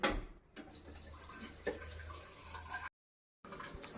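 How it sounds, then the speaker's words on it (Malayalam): Water running from a kitchen tap in a domestic kitchen, a soft continuous trickle with a couple of small splashes, faint and close, briefly interrupted by a silent gap. "ഇത് പാത്രം കഴുകാനും അല്ലാത്ത യൂസിനൊക്കെ ഉപയോഗിക്കുന്ന കേട്ടോ ഈ പൈപ്പ്"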